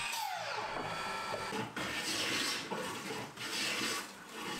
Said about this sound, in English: I used a hand plane just to square up the edges of each board